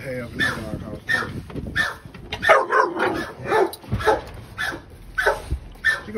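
A dog barks repeatedly in short bursts, close and loud, with whimpers and yips mixed in while a person talks over it.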